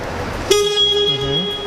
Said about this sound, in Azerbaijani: Məsələn, siqnal çalışdı.